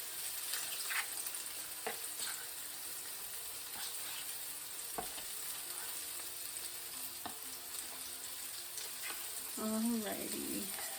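Salmon steaks fry in a pan with a steady, close sizzle and crackle throughout, with a few brief clinks and a short higher-pitched squeak near the end.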